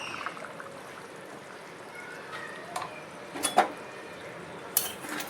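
A Bengali-style mutton curry with garam masala is stirred in a pot, heard as a soft background hiss broken by a few metal spoon clinks against the pot.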